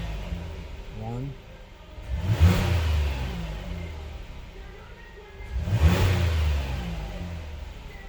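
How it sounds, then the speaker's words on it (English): A 2022 Hyundai Palisade engine idles, then revs sharply twice on snap throttle, each burst peaking and falling back. A voice speaks briefly between the revs. "So let's do a couple snap throttle."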